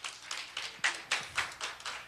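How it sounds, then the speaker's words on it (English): Sparse, rhythmic hand claps from a seminar audience on parenting, about eight sharp bursts in two seconds, moderately close, with no talking over them. "Can we give a round of applause again?"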